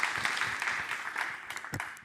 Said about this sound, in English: can you give them a great round of applause as well?